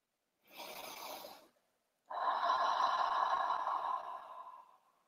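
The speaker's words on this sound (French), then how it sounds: "on va respirer profondément 3 fois" Two slow, deep breaths taken during a calming breathing exercise, a short airy inhale followed after a pause by a long, loud exhale that fades out, close up with no talking.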